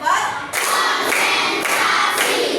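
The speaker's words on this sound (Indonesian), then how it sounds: "kita tepuk tangan, kita tepuk tangan dulu ya" A class of children claps hands together in a teacher-led clapping routine, loud close bursts of group clapping starting after a brief pause and continuing in rhythmic waves.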